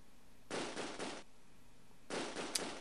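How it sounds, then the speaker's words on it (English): Mortar rounds landing in the World War II strategy game Close Combat: A Bridge Too Far, two separate noisy bursts of rumbling blast, each lasting under a second, the second ending in a sharper crack. "Let me try and drop some mortars on them."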